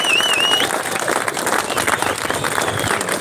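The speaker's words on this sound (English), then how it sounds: "So give them all a big round of applause." Audience applause for a panel of industry speakers at a live event, broad and steady for about three seconds, with whistle-like tones and crowd noise mixed in.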